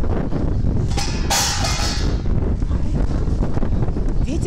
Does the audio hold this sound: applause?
no